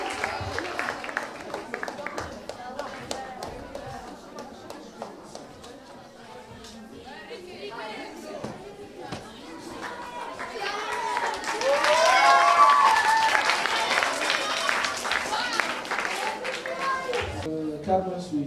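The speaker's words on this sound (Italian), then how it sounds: "accogliamo con un applauso l'Orchestra" Audience applause welcoming a school orchestra at a music concert, broad steady clapping with crowd chatter that swells louder midway and stays full to the end.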